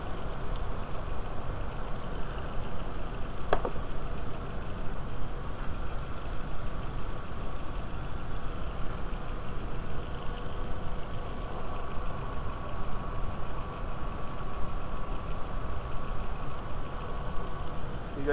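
A 1.8T turbo engine in an all-wheel-drive VW A4 runs at a steady idle while its secondary air injection combi valve is tested. The exhaust pulses thrum evenly and unbroken throughout.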